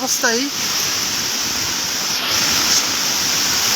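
Strong cyclone wind from Cyclone Remal roars steadily throughout, a broad rushing noise close to the mic, with a brief voice near the start.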